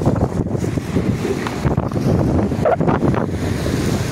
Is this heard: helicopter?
no